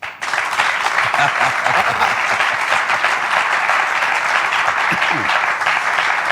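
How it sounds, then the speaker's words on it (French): Loud, sustained applause from a studio audience fills the whole stretch, a dense, steady roar of clapping hands with a few voices faintly mixed in. "Entendez juste leurs applaudissements."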